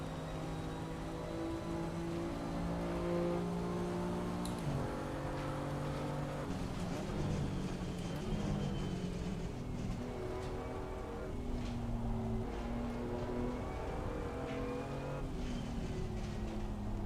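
A BMW M2 CS Racing car circulates the Silverstone track, its engine droning steadily through gear changes with rising and falling pitch, heard from inside the car for a sustained stretch without talking.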